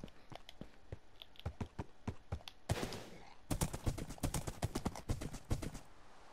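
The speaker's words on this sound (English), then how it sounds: "And over there is Ted's horse" Video-game horse hooves clip-clop in a quick, steady rhythm, with a brief burst of noise midway before the hoofbeats continue.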